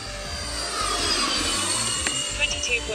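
A radio-controlled F-14 model jet flies overhead, its whining electric ducted-fan roar rising and sweeping for a few seconds, fairly loud and close, with brief clicks near the end.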